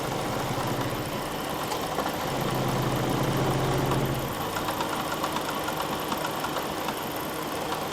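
A Jeep engine idles steadily during a phaser test, with a close, constant mechanical drone and a low hum that swells in the middle before settling back to the same even idle.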